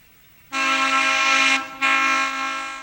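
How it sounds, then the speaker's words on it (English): B&O passenger train Cincinnatian, number 54, rounding a curve as its locomotive horn sounds a loud, steady chord, a long blast, a brief break, then a second blast fading slightly at the end. "Here it is being used by a passenger train as the Cincinnatian, train number 54,"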